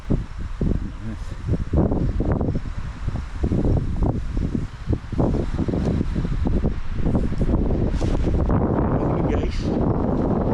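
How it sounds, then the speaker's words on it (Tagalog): Strong wind roars steadily at a mountain campsite in Sta. Fe, Nueva Vizcaya, with a loud, broadband rush and gusty swells that continue throughout. "Tsaka napakalakas ng hangin."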